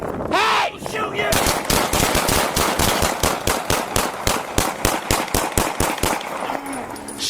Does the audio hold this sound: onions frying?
no